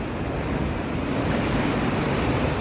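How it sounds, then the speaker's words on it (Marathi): Rough sea at high tide beside Sindhudurg fort in Malvan, Konkan, makes a constant, dense roar of surf and wind with no breaks and no voices. "तर आता भरती आहे समुद्राला, त्यामुळे समुद्रही बऱ्यापैकी खवळलेला आहे. बघा लाटा."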